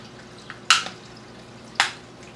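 Two sharp plastic clicks as a spacer snaps into the snap points of an EcoTech Marine MP40wQD Quiet Drive pump, each a crisp close snap about a second apart, alone over faint room hiss.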